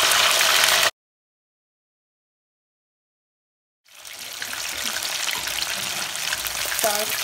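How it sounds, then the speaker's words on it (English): Spicy chicken wings dropped into hot oil, a loud, close, steady bubbling sizzle that cuts out for a few seconds of silence and then returns and keeps crackling to the end. "Now I'm just gonna put my wings in the oil."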